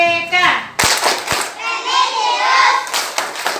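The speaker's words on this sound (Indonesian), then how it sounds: "mari kita bertepuk PPK" Children chanting and clapping a rhythmic PPK hand-clap routine in an Indonesian school setting, group voices in unison broken by a few sharp claps, loud and close.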